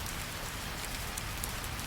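Gentle rain falls steadily at night, a soft even hiss of drops on surfaces with no other sounds.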